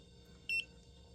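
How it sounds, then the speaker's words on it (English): A single short electronic beep from a car battery tester, high-pitched and clean, sounds once against a quiet background. "And you heard it beep, so it says now it's a good battery."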